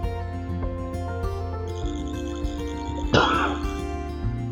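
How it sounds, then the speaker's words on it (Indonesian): A single short, sharp cough bursts out once partway through, standing above soft continuous background music during a teacher's online lesson. "maaf tadi batuk sebentar ya"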